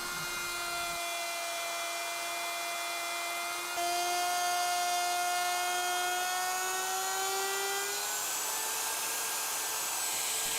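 A wood router fitted with a straight cutting bit runs steadily while building a torsion box assembly table, giving a loud, continuous high motor whine whose pitch drifts slightly upward near the end, with no talking.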